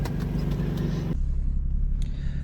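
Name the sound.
modified Infiniti G35 car driving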